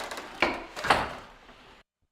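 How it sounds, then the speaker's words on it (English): A door opens with two soft thuds and a brief scrape of wood, a short close movement that fades out into silence, with no voices. "the witch came out of the door"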